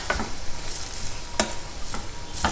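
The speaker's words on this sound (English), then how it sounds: "Toss them together and let them cook in this butter for just 2 or 3" Vegetables for a South Indian vegetable stew cook in butter in a pan, making a steady close sizzle with a few bright scrapes from stirring or tossing, and no talking.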